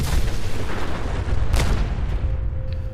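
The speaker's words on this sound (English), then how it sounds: "why did I stare right at the nuclear explosion?" A nuclear explosion in the video game Fallout 4 rolls out as a loud, sustained deep rumbling boom, with crackling bursts running through it for about three seconds.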